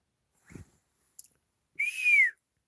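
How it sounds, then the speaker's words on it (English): Someone outdoors in a remote desert canyon with rock art whistles one clear, rising-then-falling note lasting about half a second, preceded by a soft thump and a small click. "I'm whistling just so they know."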